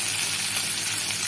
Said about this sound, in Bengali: কাঁঠাল দানাগুলো অল্প ভাজা ভাজা করে নেবার পর